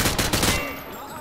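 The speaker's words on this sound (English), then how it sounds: "Grab that weapon off the table and fire at the targets behind you." Call of Duty: Modern Warfare 2 automatic weapon fired from the hip at range targets in a video game, a loud rapid burst of gunshots for about half a second, then fading echo and ringing tail.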